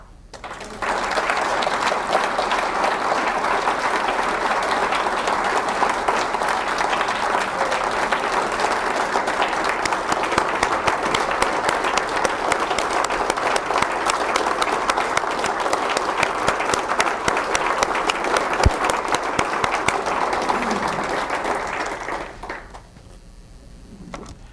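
Audience at a 2007 general secretary report to the CPSP community applauding for over twenty seconds, a dense, even wash of clapping that fades out near the end.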